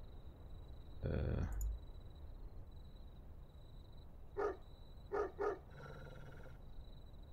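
A dog barks in the video game Alter Ego: one heavy bark near the start, then a few sharper barks in a quick cluster a few seconds later, fairly faint over a quiet background hum.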